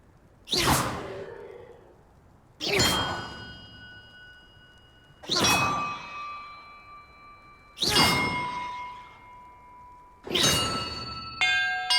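Magical bells struck one after another in the wizarding game Hogwarts Legacy, five resonant clangs about two and a half seconds apart, each with a bright attack and a long ringing decay and a different pitch.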